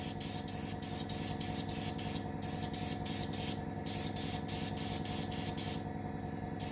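An airbrush lays a heavier coat of paint on a Project 955 Dolgoruky submarine model, a steady close hiss that runs throughout, broken by brief pauses, with no voices.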